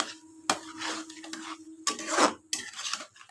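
A spoon scrapes and stirs katla fish curry masala with ridge gourd and potato in a pan, giving short, close, sizzling strokes in separate bursts with small clinks between them.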